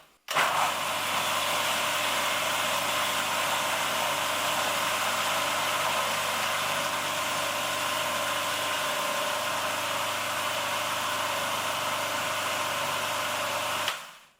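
A kitchen blender purees a batch of homemade hummus with garlic in one continuous, steady whir that runs loud and unbroken for about fourteen seconds before cutting off.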